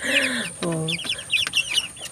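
Chickens clucking up close, with a few drawn-out squawks and rapid cackles overlapping, and quieter bird chirps in the background.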